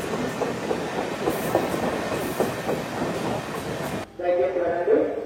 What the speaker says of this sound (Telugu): బెక్కువాల్ రైల్వే స్టేషన్ దాటిన తర్వాత మనకి ఎదురొచ్చింది డబల్ డెక్కర్